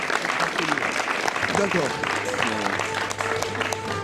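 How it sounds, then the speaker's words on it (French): A studio audience at a broadcaster's programme-schedule launch event applauds in a steady, dense patter of clapping that runs throughout, with people talking over it. "Applaudissements"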